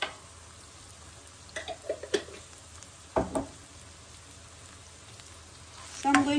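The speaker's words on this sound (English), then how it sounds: "Just cook the onion and garlic, and just a little bit of ginger." Chopped onion, garlic and ginger paste frying in a pan, a soft steady sizzle with a few bursts of stirring clatter and spatula scrapes nearby.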